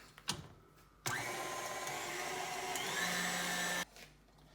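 An electric hand mixer whips egg white and sugar toward stiff peaks for a Bisque Tortoni, running as a steady loud whir for about three seconds, then cutting off abruptly.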